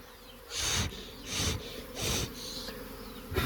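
Honeybees swarm around wooden beehive boxes, their buzzing swelling in four loud, close waves of a second or so each, with a steady lower hum carrying on between them.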